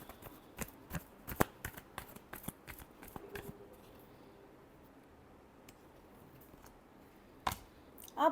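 Tarot cards are shuffled up close in a rapid run of crisp riffling snaps and clicks, then fade into quiet handling with a few sparse taps and a final burst.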